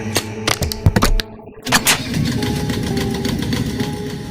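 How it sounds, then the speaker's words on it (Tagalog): A generator engine being started: several sharp mechanical pulls and clunks, a brief pause, then the motor catches and settles into a steady, moderately loud running drone. "Pinihit ko na ang makina."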